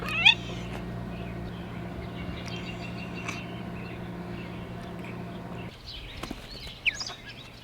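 A cat meows a few times out in the woods near free-ranging Bielefelder chickens, short high calls over a steady low background hum.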